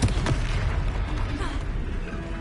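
A Confringo blasting spell explodes in Hogwarts Legacy, giving a dense, loud, rumbling boom that fills the whole moment under a broad wash of game noise.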